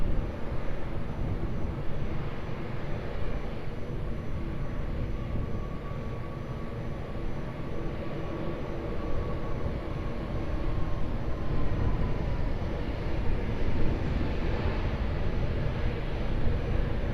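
Airliner taking off from runway 20 at Lisbon Airport, a sustained, rumbling jet roar at a moderate distance that swells and fades gently as the aircraft rolls and climbs.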